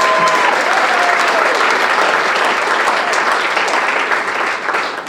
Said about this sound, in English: Let's give all three of those donors a huge round of applause.